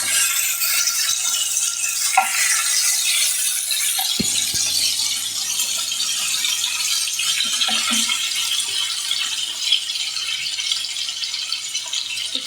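Chopped tomatoes cooking in a pan for coriander chutney, a soft continuous sizzle with scattered light rattles and clicks of stirring.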